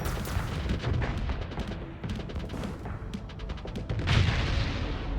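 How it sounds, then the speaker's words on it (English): Laser missiles fire in Starsector space combat, a rapid barrage of sharp cracking bursts and booms in dense volleys, loud and close, with a heavier blast near the end. "those laser missiles are insane for this level"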